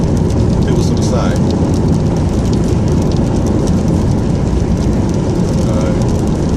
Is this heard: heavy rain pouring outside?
yes